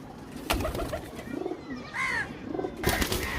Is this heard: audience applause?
no